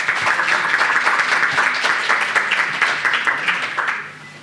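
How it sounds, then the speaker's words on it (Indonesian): Audience applause at a seminar on impunity for violence against journalists, held at a Jakarta university campus; dense, steady clapping from a crowd that carries on for several seconds before fading out near the end. "Boleh beri tepuk tangan?"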